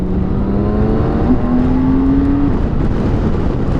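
A 2020 BMW K1600 GT touring motorcycle accelerating hard, its engine note rising steadily in pitch across a few seconds, loud and close with steady wind and road noise beneath.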